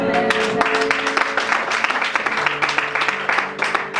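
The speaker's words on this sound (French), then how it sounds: "Oh, quelqu'un acclame pour Jésus." A church congregation cheering and clapping during a sermon, a dense burst of applause with raised voices and shouts mixed in, close and loud throughout.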